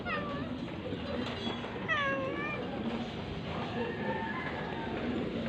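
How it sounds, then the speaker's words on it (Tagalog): Two cats meow back and forth, the calls rising and falling in short bursts over steady background noise, fairly close by. "dalawang pusa."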